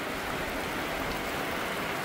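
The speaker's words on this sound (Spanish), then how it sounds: "ya comenzó la lluvia" Steady rain falls outdoors as a dense, continuous hiss, loud and unbroken, with no voices.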